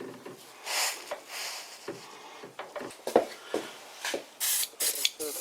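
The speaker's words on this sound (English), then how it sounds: "Bit of WD-40." Short bursts of aerosol lubricant sprayed onto a tight lathe spindle thread in a workshop, several hissing spurts in a row of varying length, close and fairly loud, mixed with light handling clatter.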